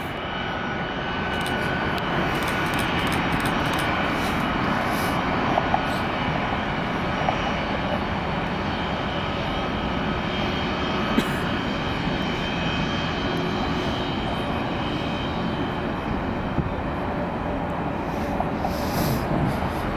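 A Boeing 757 narrow-body jet airliner at Atlanta airport produces a loud, sustained engine roar with a broad rushing noise that holds steady for a long stretch, with a few faint clicks on top.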